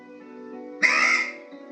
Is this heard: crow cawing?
yes